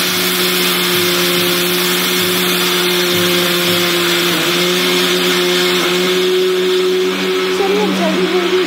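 A kitchen mixer grinder runs continuously while grinding soil in its jar, giving a loud, steady motor whine with a dense grinding roar and a slight rise in pitch toward the end.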